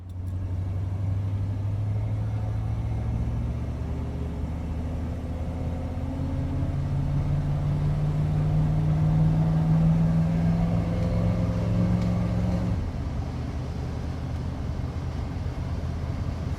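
1956 Ford Thunderbird driving on a road, a steady interior engine drone with a rising tone as it accelerates, then a drop as it shifts, continuous and close with no talk.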